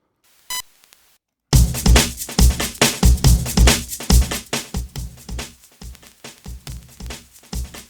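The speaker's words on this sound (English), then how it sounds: "you can hear what it sounds like with the vinyl running in the background" A looping drum beat with heavy low kicks and sharp hits kicks in after a brief tone and silence, overlaid with synthesized vinyl crackle that adds a steady, gritty surface texture beneath the rhythm.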